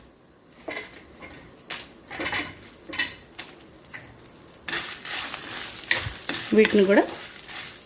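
Cumin seeds and dried red chillies frying in hot oil in a pan for a spinach chutney, with a light sizzle and stirring that grow louder and busier in the second half while someone speaks briefly.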